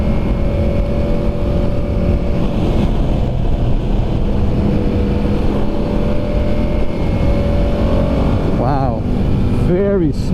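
A 2022 Ducati Diavel 1260S motorcycle cruising in third gear at about 60 mph, with a steady loud engine drone and wind rush throughout and a voice speaking over it.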